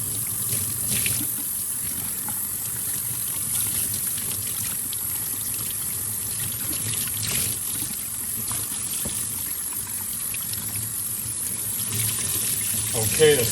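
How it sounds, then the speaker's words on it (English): Tap water runs steadily while a dirty bike part is rinsed under it, a continuous close splashing hiss lasting throughout with a brief louder gush near the end. "let's give it a rinse and see"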